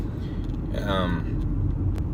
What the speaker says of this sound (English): I have a guy passing me up right now in a truck with a Confederate flag